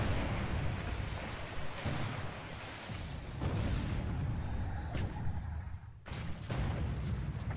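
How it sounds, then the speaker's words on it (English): An eight-inch naval gun hit lands on the light cruiser Kuma in the War in the Pacific video game: a heavy, continuous rumbling roar with several sharper blasts breaking through, deep and loud throughout. "Eight-inch gun hit on the Kuma again."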